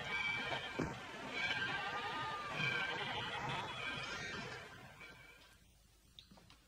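Sheep bleat in a busy outdoor setting, with several overlapping cries at moderate distance over a steady background hubbub that fades toward the end.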